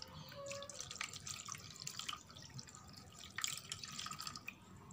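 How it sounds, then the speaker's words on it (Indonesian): About a liter of liquid fertilizer water is poured into a plastic container for polybag plants, giving a soft, close trickle and dripping that carries on steadily, swelling slightly partway through. "Kemudian wadah ini saya tuangkan air pupuk ya,"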